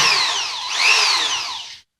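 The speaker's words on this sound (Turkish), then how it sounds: "Bu da bildiğimiz matkap. Yani bu sıkma matkabı. Bununla civata sıkıyorsunuz." A handheld power drill driver used for tightening bolts runs alone at close range, a loud whining motor that dips and rises in pitch before stopping abruptly near the end.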